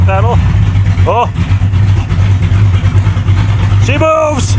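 A homemade vehicle's engine runs loud and close with a steady low rumble, revving in short rising bursts as it starts moving, while people talk over it.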